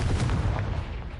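A Confringo spell blast goes off in Hogwarts Legacy, a short, dense low boom with a rumbling burst that fills the whole moment at steady, fairly loud level.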